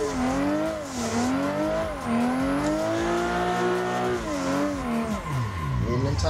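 Tyres squealing continuously on a 400 bhp Nissan 180SX drifting in Assetto Corsa, a loud wavering screech over the revving engine, close and sustained, sweeping up and down in pitch.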